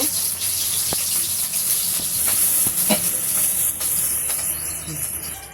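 Onions and green chilies sizzle steadily in hot oil in a wok in a Bangladeshi village kitchen, a continuous bright hiss with faint clicks and pops throughout.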